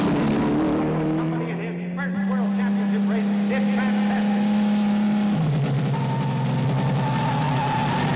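A racing car in a World Championship race drives at high revs, its engine whining steadily and shifting pitch up and down as it accelerates and changes gear, loud and close with faint crowd noise behind.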